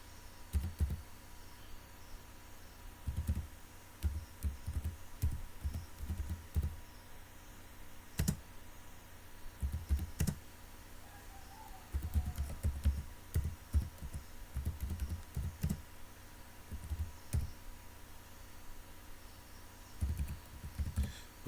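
Typing on a computer keyboard, bursts of quick soft key clicks with short pauses between, close and fairly quiet over a faint room hum.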